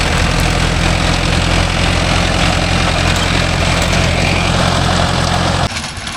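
A Mahindra Arjun Novo 605 DI tractor engine idles in farmland with a loud, steady, low diesel rumble and vibration that runs unbroken before dropping away near the end.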